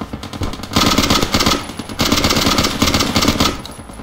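Rapid automatic gunfire in the video game Ace of Spades, a steady dense burst of shots running almost the whole time with brief pauses, loud and close.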